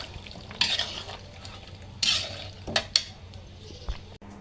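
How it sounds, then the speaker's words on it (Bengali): Meat and potatoes cooking in a pan, with a faint sizzle underneath and a few separate bursts of stirring and spoon scrapes against the pot, close by, with no talk. "তো আলুগুলো দিয়ে মাংসটা রান্না করে নিই।"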